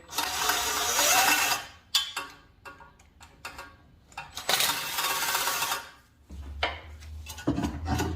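Ratchet on a long extension with a swivel turning bolts while removing the exhaust manifold and fuel rail from a Honda Prelude V4: close, rapid clicking bursts separated by brief pauses and metallic knocks, with no voices.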